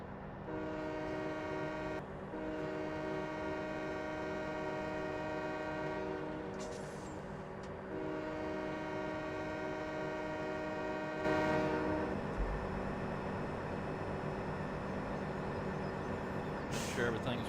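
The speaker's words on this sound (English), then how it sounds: "let's just go for a ride in the train" Ride aboard a train in Farming Simulator 17 on the Greatwoods Logging map: a steady, loud, continuous engine rumble with a layered tonal hum runs throughout, with a brief louder burst near the end.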